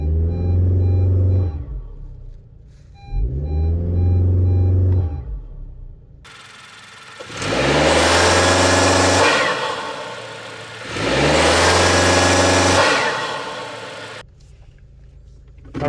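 Honda Civic with a CVT and a PRL short ram intake, its engine revved in sport mode: two short low revs, then two long, loud surges of roaring intake noise that climb and fall back, close by.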